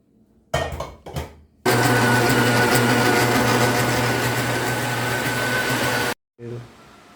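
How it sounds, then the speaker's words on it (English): A stand mixer kneads brioche dough at medium-high speed, a loud, steady motor whir with a constant hum that starts abruptly after a few knocks and cuts off cleanly, followed by a short voice. "I'm gonna put this back on the mixer and I'm gonna leave it to mix on medium to high speed for about 8 to 10 minutes"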